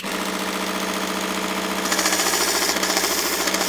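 A small mini belt sander grinder runs loudly and steadily on scrap wood, its motor whine turning harsher and more rasping partway through as the belt bites into the piece.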